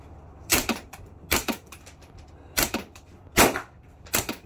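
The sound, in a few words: gunshot from a Dirty Harry style handgun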